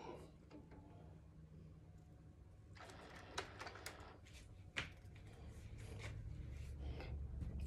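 An Epson XP-15000 printer boots up after power-on, giving faint mechanical whirs, clicks and thumps, then a growing motor hum, heard close in a quiet room.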